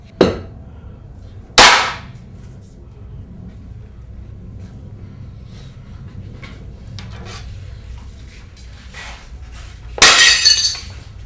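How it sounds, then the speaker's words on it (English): A mirror dropped onto the ground in the 2008 film Melancholia shatters with a loud burst of breaking glass near the end. Sharp glassy clinks strike earlier, and a low steady rumble runs underneath throughout. "before literally shattering her reflection by dropping the mirror onto the ground"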